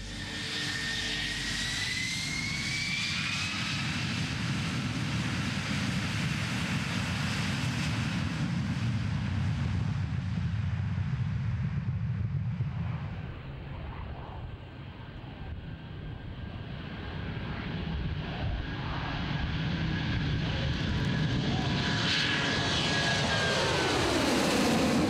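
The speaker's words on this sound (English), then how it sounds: "we were able to make our takeoff." A Nimrod MRA4 maritime patrol jet taking off on its first flight at Woodford, a loud sustained jet roar that swells, dips briefly mid-run, then builds again with rising whine.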